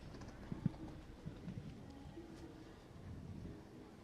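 Horse hooves clip-clop on a show jumping course at a stud festival as a few faint, distant, irregular thuds under quiet arena ambience.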